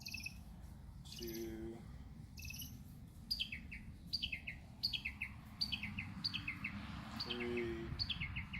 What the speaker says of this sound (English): You hear those mockingbirds? They're unruly.